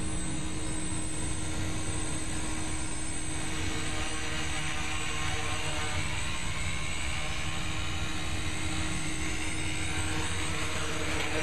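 Remote-controlled tri-copter flying outdoors at an airfield in the San Fernando Valley, giving a steady, loud rotor drone with a high whine that holds throughout, the spinning rotors kicking up dust.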